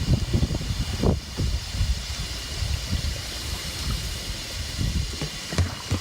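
Water rushes and gurgles through the rinse line of an RV waste tank, a steady close wash of flowing water with uneven sloshing surges and no talking.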